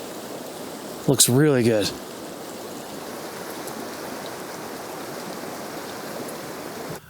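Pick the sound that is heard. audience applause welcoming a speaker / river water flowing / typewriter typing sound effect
river water flowing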